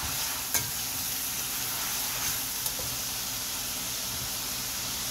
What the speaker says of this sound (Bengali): আদা রসুনটাকে খুব ভালো করে ভেজে দিব, কাঁচা গন্ধ দূর হওয়ার আগ পর্যন্ত